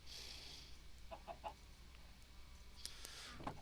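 Chickens clucking in a Minecraft farm, a steady faint background of game-animal sounds with a few brief, brighter squawks toward the end.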